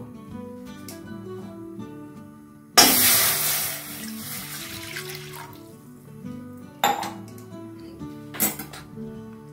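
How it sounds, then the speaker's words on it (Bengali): Water is poured into a metal wok on a lit gas stove with a sudden loud splash that fades into trickling, followed by a few clanks against the metal. A faint hum runs underneath throughout. "এবার এই কড়া বসিয়ে দিয়েছি। কড়ার মধ্যে আমি একটু জল দিয়ে দেব।"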